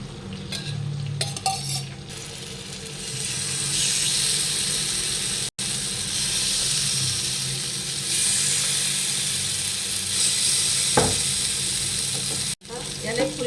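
Tandoori chicken pieces sizzle steadily in a pan on a gas stove, a continuous loud frying hiss with occasional stirring and utensil clinks, broken by two brief silent cuts.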